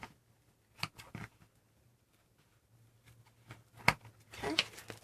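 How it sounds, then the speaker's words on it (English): Scissors cutting along a line through a Dollar Tree placemat: a few sharp, separate snips close by, the last ones in a quick cluster, with quiet gaps between and no talking. "now I'm just going to cut it out. Just follow your line."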